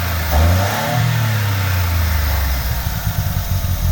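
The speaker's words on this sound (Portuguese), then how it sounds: "Eu já vou acelerar pra vocês verem" A Towner fitted with a PWK 42mm carburetor revs up close and loud, the engine note climbing and holding in a steady drone before turning rougher and more uneven toward the end.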